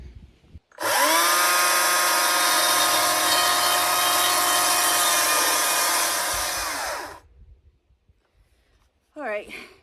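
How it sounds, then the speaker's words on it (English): A chainsaw cutting wood outdoors at a remote Alaskan garden build roars at a steady high pitch for about six seconds, then winds down, followed by a brief burst of speech. "Let me get my chainsaw and we'll get this sawed correctly."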